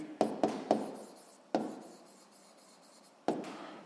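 Pen or chalk strokes of writing out a physics calculation, a few short taps and scratches in quick succession, then isolated strokes spaced apart, close and fairly quiet in a still room.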